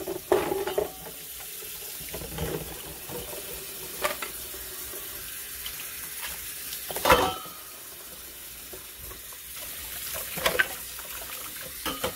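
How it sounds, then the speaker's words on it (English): Running tap water rinses juicer parts in a sink, a continuous hiss with occasional splashes and clatters of parts, close and steady without any talk. "we're just going to wash up the parts, rinse them out, get everything out, wash it down with soap and water"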